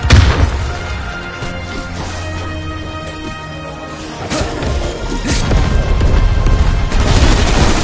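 A grenade blast in a zombie video game: a loud, dense crash and boom filling the whole clip, with a second heavy impact swelling near the end, and no talking.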